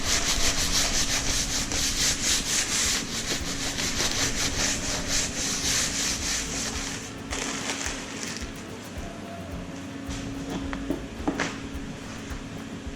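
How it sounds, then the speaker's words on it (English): A blade scrapes leftover fat off a beaver pelt stretched on a drying board, a steady close rasping of repeated strokes that thins out toward the end, with a couple of sharper scrapes near the finish. "Especially around the hind legs here, there may have been little pockets of fat left. Make sure and scrape those off."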